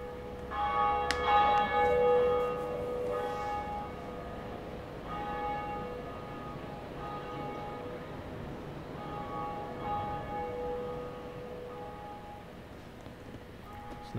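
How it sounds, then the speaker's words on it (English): In the Dark Souls video game a large bell rings out, one loud struck tone that then hums and fades over a long, resonant tail, with soft rain-like ambience underneath. "You had to ring two bells. This is the first one."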